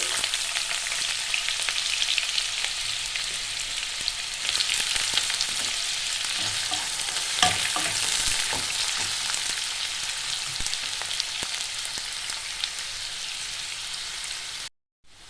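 Carrot fries in generous oil while being stirred, a steady close hiss of sizzling with occasional spatula scrapes. It runs continuously before stopping abruptly at the end, with no talking.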